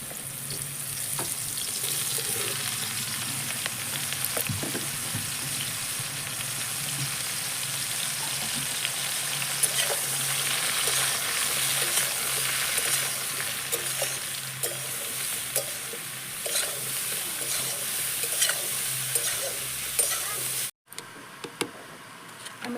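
Mushrooms sizzle in hot mustard oil in a kadai, a steady, close frying hiss with faint stirring ticks that runs for about twenty seconds before cutting off abruptly.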